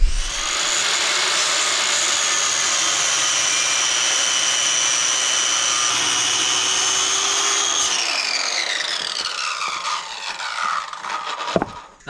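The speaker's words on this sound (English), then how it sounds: "It's so much easier with a skill saw than a chainsaw, and the cuts are more square." A circular saw whines loudly as it cuts through a log, a long steady high-pitched cut that winds down near the end.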